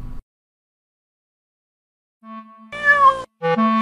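Two playful cats meow in short, clear, close calls, a brief cry followed by two louder, longer meows.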